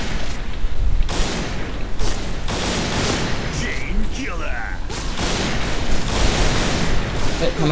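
Barrett M82A1 sniper rifle shots in the video game Point Blank, with several loud, booming reports and game effects in a continuous dense mix, and a voice talking over them.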